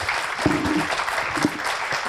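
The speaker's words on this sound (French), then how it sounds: "Je pense que vous pouvez applaudir" Audience applause at a round-table session, a continuous wash of clapping from a seated crowd, moderately loud, with a few low knocks mixed in.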